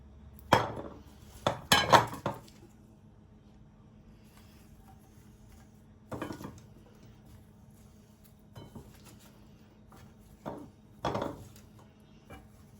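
Scattered clinks and light knocks of chopped green beans placed into a pot over onions, several short clusters separated by quiet pauses, close by.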